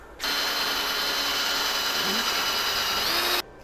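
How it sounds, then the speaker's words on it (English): A power drill whirs steadily for about three seconds at close range while fitting a new radiator to a Corvette C3, starting and stopping abruptly with an even high-pitched drone. "I gotta drill again"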